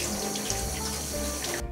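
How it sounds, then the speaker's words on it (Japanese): Water streams steadily from a tap over a teeth-whitening mouthpiece being rinsed, a continuous close splashing flow that cuts off abruptly near the end. "まずマウスピースを流水で流して、ブラシとかもね使って洗った方がいいみたいです"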